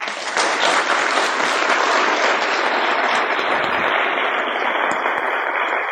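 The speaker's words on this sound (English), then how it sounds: "I think we all should give Ross a round of applause." A conference audience applauds an event organizer named Ross with steady, dense clapping that carries through the whole stretch at a constant level, with no voices.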